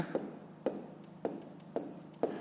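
A pen writes out a math solution by hand on paper in short, evenly spaced strokes, five distinct scratches, close and fairly clear, with a voice murmuring softly underneath.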